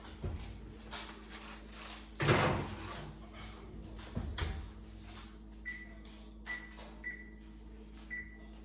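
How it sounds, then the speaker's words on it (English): An oven door opens and shuts with a thump as an apple tart goes into a 375-degree oven, followed by a few soft kitchen clicks and faint beeps; no one speaks. "Let's put it in the oven, 375 for about 40 minutes."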